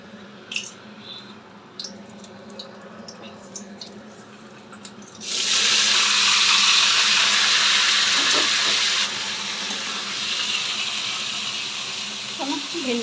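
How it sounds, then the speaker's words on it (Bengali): Okra dropped into hot oil in a wok hisses up into a loud, steady sizzle that holds for several seconds before easing slightly, after quieter kitchen clinks and faint talk at the start. "এই যে ভেন্ডি ভাজা বসাবো বলে এখানে কড়াইতে তেল দিয়ে দিয়েছি।"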